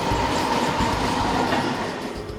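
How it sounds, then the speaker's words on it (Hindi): A 12-car Mumbai fast local train heading for Chhatrapati Shivaji Terminus rumbles along steadily with a dense, loud roar and faint rhythmic wheel clatter, heard up close without voices. "तुषार के पिता 7:24 की फास्ट लोकल ट्रेन पर सवार हो गए।"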